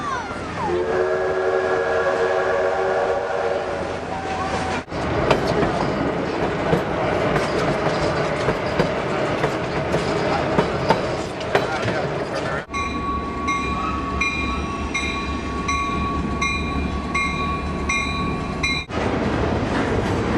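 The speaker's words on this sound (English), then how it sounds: "Across America, trains carry people and freight from one place to another." Train rolling along rails, with a loud continuous rumble and clatter of wagons, a sounding horn or whistle at the start and steady tonal horn blasts later, close and prominent.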